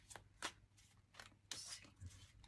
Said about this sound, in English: Sorry, I'm not the world's best shuffler.